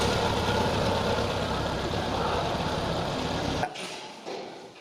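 Four-cylinder car engine running at idle during a tune-up: a steady, dense engine drone for most of the stretch that suddenly cuts off near the end, leaving only faint background noise.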